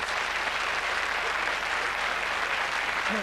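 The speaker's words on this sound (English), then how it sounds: "Your applause, please, for our healers." An audience applauds steadily, a dense wash of clapping that holds at an even level throughout.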